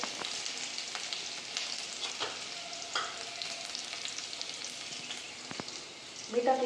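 Cumin seeds and garlic crackle in hot oil in a pan, a steady moderate sizzle with occasional sharp pops and clinks, and a brief clatter near the end.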